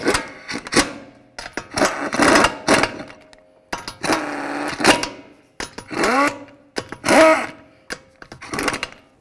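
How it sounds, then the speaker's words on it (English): Lug nuts are spun onto a 2014–2017 Infiniti QX50 front wheel during a brake job, heard as a series of sharp mechanical whirring and ratcheting bursts with short pauses between them. "Now I'm just gonna start on all the lug nuts."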